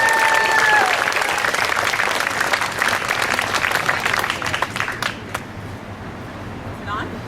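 An indoor audience claps loudly and steadily for Ontario Premier Kathryn Wynne, and the applause thins out and fades toward the end.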